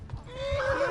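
A horse whinnies in Kingdom Come: Deliverance, a rising, sustained neigh building over soft hoof clip-clops, close and fairly loud with no voices.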